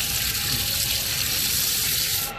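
A drinking-water tap at a temple runs in a continuous, close, steady gush of splashing water, with no talk over it.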